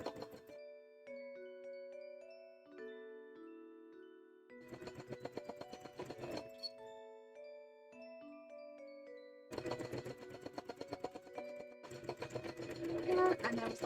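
A sewing machine stitches a thick zigzag on custom cosplay lace in two long runs of rapid mechanical chatter, with gentle melodic music playing throughout and during the pauses.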